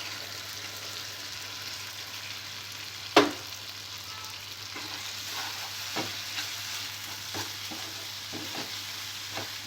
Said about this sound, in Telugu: ముందుగా మిక్సీ పట్టుకున్న పల్లీలు జీడిపప్పు పేస్ట్ వేసుకోవాలి